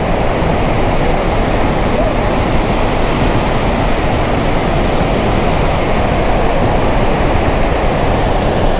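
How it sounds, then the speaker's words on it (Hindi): Bahuti waterfall in Madhya Pradesh, a very high fall dropping into a rift valley, gives a loud, steady, broadband roar that stays constant throughout with no break or other sound. "पहली बार अपनी लाइफ में मैंने झरना देखा है,"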